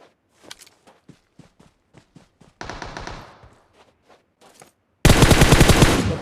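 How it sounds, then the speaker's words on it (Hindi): Gunfire in a solo-ranked battle royale game: single spaced shots and footsteps, then a dense burst of rapid fire, and a final loud sustained automatic volley that fills the end, close and without talk. "देखिए फायरिंग हुआ गाइस"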